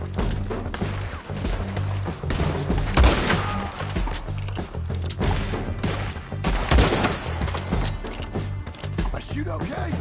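Gunfire in a PS4 video game, dense rapid volleys of shots and impacts crackling throughout, loud and close over a busy game soundtrack with no pauses.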